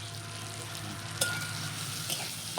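Vegetables and chicken fry in a pan for a homemade chicken pizza, giving a steady, close sizzle with a few sharp clinks of a utensil against the pan and no talking.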